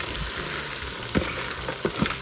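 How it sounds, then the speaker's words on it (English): Okra frying in a pot on the stove for Guyanese-style okra stew, giving a steady close sizzle with a few soft stirring knocks and clatters. "And then you're gonna put your okra."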